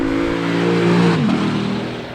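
A Lexus V8 performance coupe from 2015 revs hard, its engine tone climbing in pitch, then dipping and rising again at a gear change, loud and close, with no talking over it.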